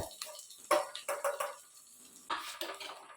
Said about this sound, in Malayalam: ഇനി ഇതിനകത്തേക്ക് നേരത്തെ വറുത്ത് പൊടിച്ച് വെച്ച പൊടികളില്ലേ, അതൊന്ന് ചേർത്തിട്ട് ഒന്ന് വഴറ്റിയെടുക്കുന്നുണ്ട്.